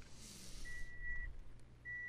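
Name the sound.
alarm beeping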